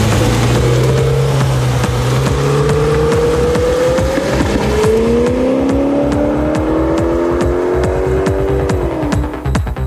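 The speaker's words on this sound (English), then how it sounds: "Roland Meyer's Audi RS6 is the first to be tested. This tuned family sports car is aiming for more than 300 km/h." Tuned Audi RS6 family sports car accelerating flat out toward 300 km/h, its engine note rising through the gears in a loud, sustained roar with a brief drop at each shift, heard from inside the car.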